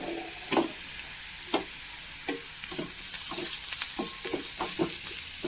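Crushed chilli flakes, about one and a half spoons, frying in hot oil for a lunch dish, giving a steady soft sizzle broken by several sharp scraping stirs of a spoon in the pan, close up with no voices.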